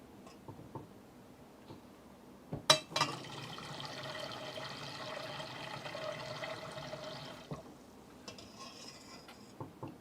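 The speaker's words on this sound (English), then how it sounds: "Then I'm going to hit this with some filtered water." Filtered water poured through a strainer into a pineapple, turmeric and ginger drink, a steady broadband splashing and trickling wash lasting several seconds after a sharp clatter, then fading out.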